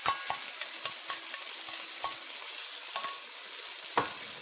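Onions fry in a pan for a pork stew in tomato sauce, sizzling steadily up close while a utensil scrapes and taps the pan in irregular strokes, with a sharper knock near the end.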